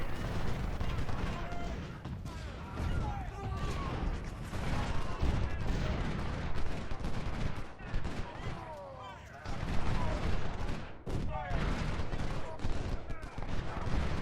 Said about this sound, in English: My artillery is degrading his artillery.